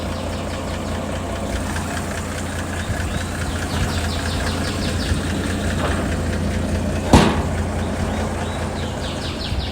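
A steady, low mechanical rumble of a 1970 Toyota FJ40 Hardtop engine idling, continuous and even throughout, with one brief sharp knock near the end.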